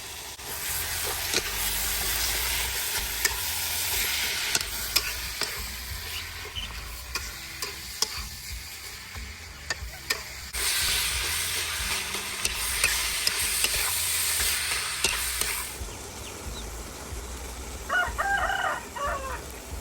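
Pork stir-frying in a pan with oyster sauce, fish sauce and seasoning, a loud continuous sizzle with clattering stirring strokes that swells and fades in bursts, a rooster crowing in the background.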